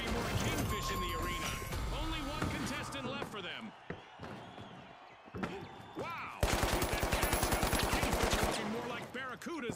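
Shotgun blasts and other gunfire ring out in the video game The Finals, loud repeated booms followed by a rapid burst of fire, with a voice talking over the action.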